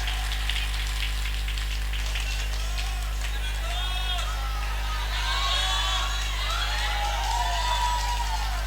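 Audience applause at a public Islamic religious gathering in Sempol, a dense crackling patter of clapping that stays steady throughout, with a mains hum underneath and voices calling out over it.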